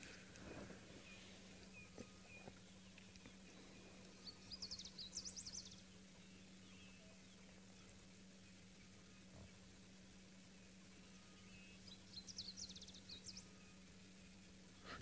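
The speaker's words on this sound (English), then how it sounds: "So you can hear that there's quite a lot of other birds called. Those are the hornbills." Yellow-billed hornbills call in two brief chattering bursts, distant and moderately faint, over a steady background hum with scattered other bird calls in a wild safari setting.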